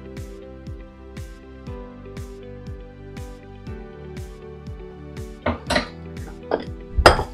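Tortellini salad tossed in a bowl gives a quick run of close, bright clinks and scrapes of utensils against the dish, tapping rhythmically before a few louder knocks at the end.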